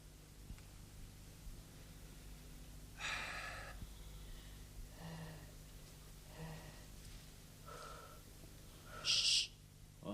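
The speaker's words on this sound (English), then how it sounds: "Can you hear funny breathing?" Strange breathing in the dark comes as several faint, breathy puffs and snorts at irregular intervals, with a sharper, louder breath near the end, set against a quiet, humming room.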